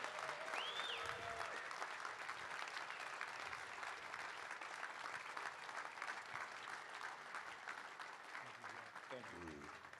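An audience at Milford Flight Night applauds with steady, dense clapping from a crowd that lasts throughout, with a voice speaking briefly near the start and again at the end.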